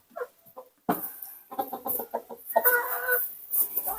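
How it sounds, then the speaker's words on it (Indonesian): Chickens cluck inside a small home-scale chicken coop, several birds giving short repeated clucks and squawks close by, busy and irregular, with no talking. "kita masuk dalam kandang ayam ini"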